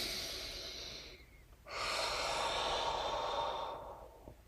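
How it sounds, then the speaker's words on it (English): Slow deliberate breathing, a long airy inhale through the nose, a brief pause, then an extended audible exhale out through the mouth, close and fairly quiet with no talking. "Breathe into the nose and out the mouth."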